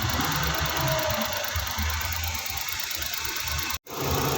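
Suzuki DA64 engine idles steadily after a cylinder misfire repair, an even mechanical hum with light ticking heard up close for a few seconds, with no talking.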